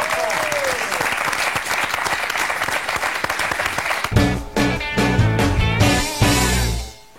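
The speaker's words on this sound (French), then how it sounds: "Applaudissements pour Hortense Marin qui est avec nous." Studio audience applause for a TV cooking show presenter rises as a dense, steady clatter, then gives way to loud music in the final seconds.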